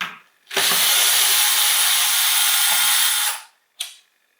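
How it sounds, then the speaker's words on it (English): A power drill or screwdriver backs screws out of an old boombox: a loud, steady whirring run of about three seconds, then a brief second burst, close and with no talk. "Alright, let's take out more screws."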